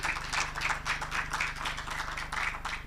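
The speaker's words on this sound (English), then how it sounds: "give yourselves another round of applause," An audience at a digital literacy graduation ceremony for educators claps in a steady, quick rhythm of even pulses, fairly loud and close, with a low hum underneath and no talking.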